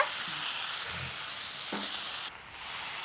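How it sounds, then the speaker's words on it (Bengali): Crab and fried potatoes sizzle and sauté in a pan, a steady frying hiss broken by a few soft stirring scrapes and clinks, with no talk. "এখন আলু দিয়েও কাঁকড়া কষিয়ে নেব"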